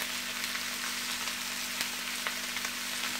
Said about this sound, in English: So I am just going to start out by sauteing my pepper and onion mixture.